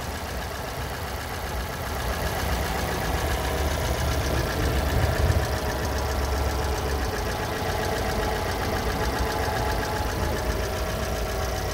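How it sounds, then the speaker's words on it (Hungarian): An Alfa Romeo MiTo 1.4 MultiAir engine idles in a low-mileage car in excellent condition, giving a steady, even hum with a faint knocking texture. It runs close and alone for about twelve seconds, with no talking. "hallottátok, az Alfa motort is"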